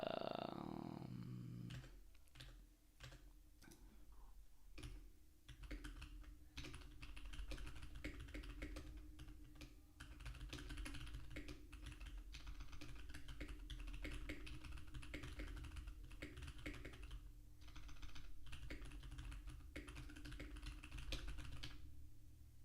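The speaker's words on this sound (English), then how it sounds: "I want to type everything manually." Steady typing on a computer keyboard, with close, quick, uneven clatters of keys that continue without a break for over twenty seconds.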